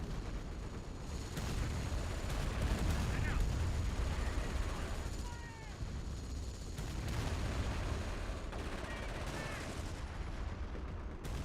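Heavy machine gun fire and explosions in a war video game, continuous rattling bursts and rumbling blasts at a steady moderate level throughout, with a voice speaking over it.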